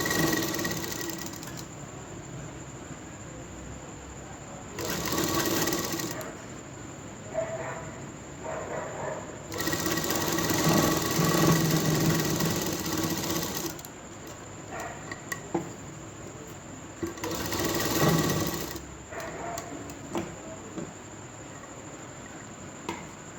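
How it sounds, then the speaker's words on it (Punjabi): Sewing machine stitching the neckline of a kameez in short bursts of rapid, close needle rattle separated by quieter pauses, with faint handling noises between runs. "ਇੱਥੋਂ ਅਸੀਂ ਲਗਾਵਾਂਗੇ ਸਲਾਈ"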